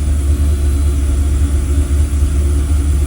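A diesel engine at idle, with no throttle applied, holds a loud, steady low rumble that stays even and close throughout.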